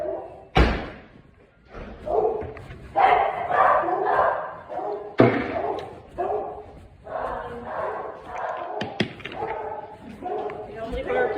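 Dogs in a kennel area waiting for morning feeding bark in repeated bursts, fairly close and loud, with sharp thuds and metal slams cutting in between.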